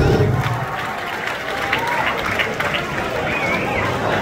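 A crowd at a live concert in Sydney cheering and clapping, a lively burst of applause and shouts that gradually settles into a noisy murmur.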